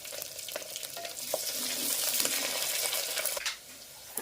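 Chopped onion and garlic frying in hot oil while being stirred, a bright crackling sizzle with scraping stirs, close and moderately loud, easing off near the end.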